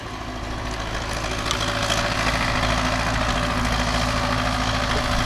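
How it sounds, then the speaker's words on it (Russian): A tractor drives past on a village road, its heavy diesel engine a steady, close rumble that grows slightly louder and holds throughout, with no talking. "сейчас трактор проедет"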